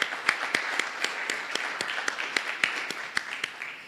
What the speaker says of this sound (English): I think we ought to give you all a great round of applause.